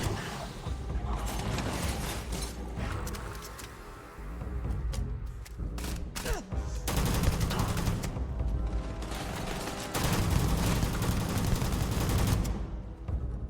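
Gunfire in the space game Starfield: repeated rapid shots and bursts crackle amid mechanical clanks, fairly faint and steady throughout with a few sharp louder hits.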